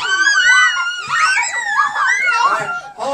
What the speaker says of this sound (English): everybody started screaming.